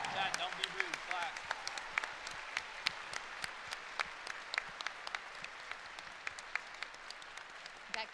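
Audience applause fills the arena at the OWCS Overwatch esports grand finals in Stockholm: a dense, steady wash of many hands clapping, heard distantly and softly through a stream, with faint voices underneath.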